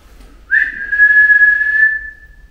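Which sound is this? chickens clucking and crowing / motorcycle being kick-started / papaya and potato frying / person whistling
person whistling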